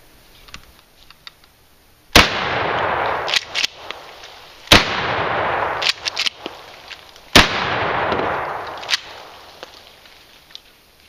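A short-barreled 12 gauge shotgun with a barrel of about 14 inches fires slugs outdoors: three loud, sharp blasts spaced a few seconds apart, each trailing a rolling echo, with faint clicks and handling noises between.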